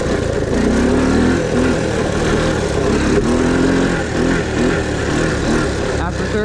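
A Honda ATC three-wheeler's small engine drones loudly and continuously, its pitch rising and falling as the rider revs and shifts up through the gears, close to the microphone throughout.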